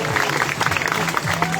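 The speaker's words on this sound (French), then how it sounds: "Et on peut bien sûr applaudir Nelly" Brief burst of audience clapping at a sea lion show at an animal park, short and fairly busy, mixed with crowd murmur and some voices.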